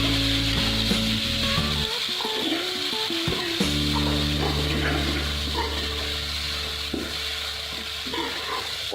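Tomatoes frying in a pan with browned garlic paste for an aloo palak curry, giving a steady close sizzle with occasional stirring scrapes and a constant low hum underneath.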